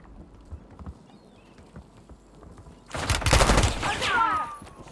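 Gunfire in Call of Duty Warzone: after a few seconds of quiet background rumble and distant shots, a loud close burst of rapid rifle fire erupts, followed by ringing, whining debris and echo.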